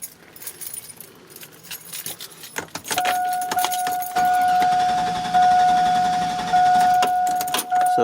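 A 2001 GMC Sierra engine cranks over repeatedly without catching, a steady mechanical churn running from about three seconds on after a key jingle, with a constant high whine above it.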